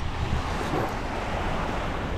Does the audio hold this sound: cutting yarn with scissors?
no